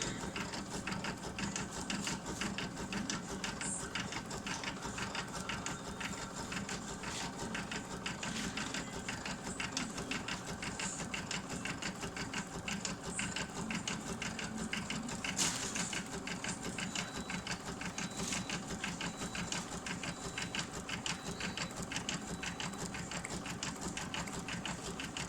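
A sewing machine runs a triple bean stitch, a fast, even mechanical chatter of needle strokes that goes on without a break at a moderate, close level.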